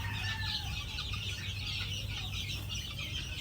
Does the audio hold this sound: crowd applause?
no